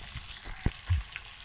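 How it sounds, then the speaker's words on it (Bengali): Onions frying in a pan with garlic and green chili give a quiet, low sizzle, broken by a couple of soft thumps from stirring over a brief moment. "পেঁয়াজটাকে হালকা করে ভেজে নেব"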